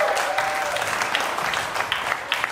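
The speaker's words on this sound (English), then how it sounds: "One more time, a big warm round of applause." Audience applause from a small crowd at a live keyboard mini session, steady dense clapping that fills the whole moment without a break.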